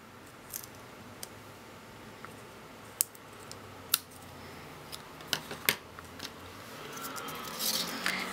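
Scissors snip the ends of a ribbon bow on a crafted jar place card, making scattered sharp clicks and cuts at close range over a quiet background, with a slightly busier rustle near the end.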